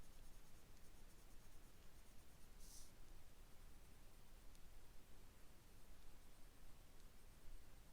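A white colored pencil rubs steadily across paper while blending a drawing, a continuous soft scratchy hiss with no pauses, close and quiet.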